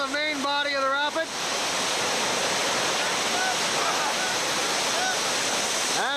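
Whitewater river rapid during a rafting trip, a constant broad roar of rushing water throughout, with a brief voice-like tonal sound at the start and faint high calls scattered over the steady rush.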